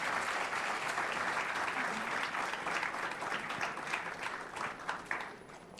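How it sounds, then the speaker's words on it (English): A large audience claps steadily in a big round of applause welcoming Kathy Giles Diaz, a delegate from Bowling Green State University, at a Sister Nivedita University reception. The applause is dense and sustained, then gradually thins toward the end. "That has to be accompanied by a big round of applause."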